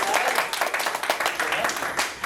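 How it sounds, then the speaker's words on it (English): Audience applause for Alison Dunkley-Smith, a dense burst of clapping that fills the short moment and stays fairly steady without fading. "Could everybody please give Alison Dunkley-Smith a round of applause?"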